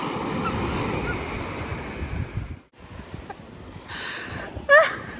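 Sea waves wash onto a beach in Sanur, Bali, a loud broad surf roar with wind buffeting, a brief drop, then renewed splashing and a short vocal sound near the end.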